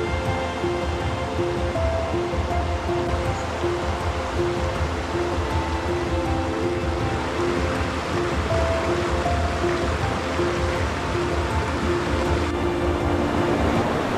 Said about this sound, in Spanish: El río viene muy crecido